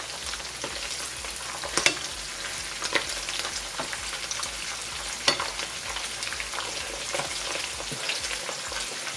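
Salvadoran fish cakes frying in oil, a steady close sizzle with irregular crackles and occasional sharper pops across the whole stretch, no voices.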